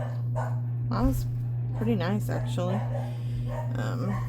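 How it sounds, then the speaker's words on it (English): Puppies bark and yip in short bursts indoors, mid-distance, while someone talks over a steady low hum. "Sorry about the puppy dogs."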